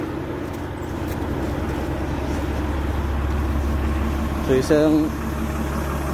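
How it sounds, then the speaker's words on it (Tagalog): A small Volvo loader engine warms up in snowy weather with a low steady idle rumble, while a voice briefly speaks near the end. "Pinandar ko na para mag-warm up yung makina."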